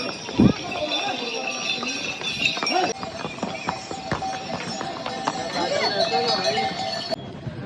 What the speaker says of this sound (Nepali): धेरै घोडा